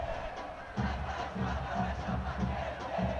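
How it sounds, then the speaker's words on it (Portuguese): Athletic supporters chant in rhythmic unison at the Joaquim Portugal stadium during a Troféu Inconfidência final against Pouso Alegre, a loud, dense crowd roar with pulsing beats. "E a torcida do Athletic sobe mais uma vez o seu som lá no estádio Joaquim Portugal"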